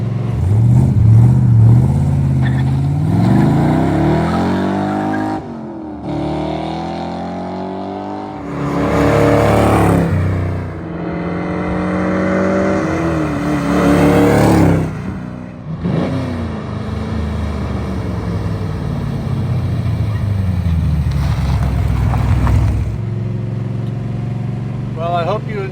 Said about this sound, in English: I hope you enjoyed those flybys. This is some incredible, powerful GT350 clone.